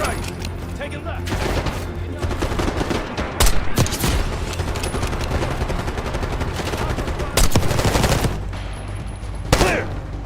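Sustained gunfire in Call of Duty Black Ops 6, dense rapid automatic bursts with several louder sharp cracks and booms layered through a noisy firefight, with voices occasionally shouting underneath.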